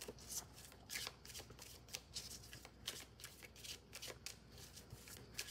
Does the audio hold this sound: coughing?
no